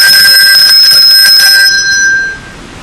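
A handbell shaken rapidly back and forth rings with a bright, shimmering tremolo for about two seconds, then the tone dies away into a soft decay, close and loud with no voices.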